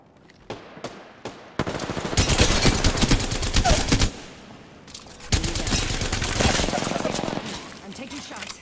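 Rapid automatic gunfire in the Apex Legends video game, loud sustained bursts with short pauses between them, plus a few sharp single shots at the start.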